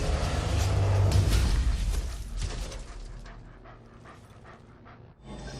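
Injured dog in the Marvel's Avengers video game whimpering and panting, a close, soft, strained breathing sound under game music and ambience.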